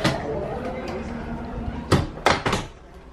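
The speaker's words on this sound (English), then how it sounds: "I'll just shut the door." A hotel suite door is pushed shut with a couple of sharp knocks and a solid thud near the end, heard close up over light room noise and faint chatter.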